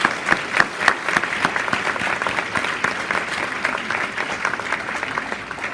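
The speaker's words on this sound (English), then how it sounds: "Let's give another round of applause to all our representatives." A large audience claps in a sustained round of applause at a Notre Dame of Maryland community awards event, dense and steady with a few louder claps standing out near the start.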